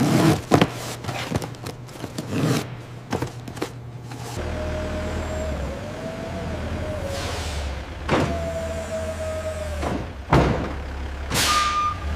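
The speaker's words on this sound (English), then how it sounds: "The large transport truck, now fully loaded, pulling away from the factory gate." A large, fully loaded transport truck pulls away from a factory gate, its low engine rumble steady under sharp mechanical clunks, a high whining tone and intermittent hisses, loud and close.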